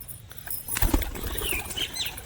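Pigeon wings flap in flight outdoors in a quick burst of beats, with faint bird chirps around them.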